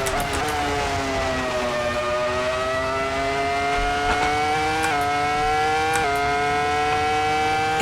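High-pitched, screaming Ferrari F2004 V10 Formula 1 engine held at steady high revs as it hotlaps Mugello in Assetto Corsa, with brief dips at upshifts, loud and continuous without talk.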